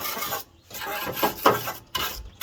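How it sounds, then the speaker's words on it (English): A welding wire brush scrubs loose powder coat off a Husqvarna lawn tractor, making rough, rasping strokes in several bursts with short pauses between them, close by and with no talk. "I just brought out this welding wire brush, good enough. I just want to get off any of this powder coat that's loose"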